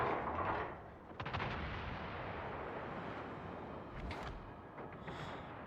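Gunfire and booming cannon blasts in a naval battle video game, a sharp volley near the start followed by further thuds over a dense, continuous roar of battle noise, with no talking.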